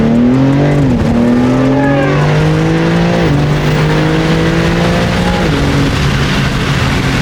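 Tuned BMW G80 with a downpipe pulling hard, loud engine note rising in steady sweeps with two or three quick gear changes, continuous and close with no talk over it.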